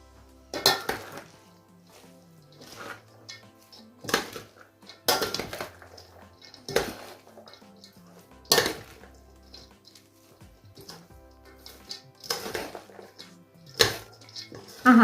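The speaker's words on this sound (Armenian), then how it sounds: "Ու այս ամենը լավ խառնում ենք։" Shredded cabbage and carrot salad is mixed with oil in a bowl, with intermittent clinks and knocks of a utensil against the dish and soft rustling between them, close and fairly quiet.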